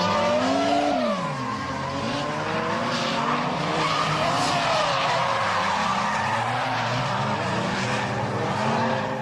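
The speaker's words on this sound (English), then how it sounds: "The Blitz R34 Skyline sedan is driven by Nomican from Urus." A Blitz Nissan R34 Skyline sedan drifting at the Ebisu Drift Matsuri, with loud continuous tire squeal and skidding over a revving, shifting engine note that rises and falls.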